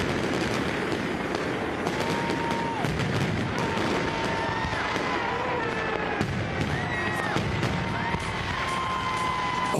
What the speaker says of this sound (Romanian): spectacolul artificiilor i-a ținut pe invitați cu sufletul la gură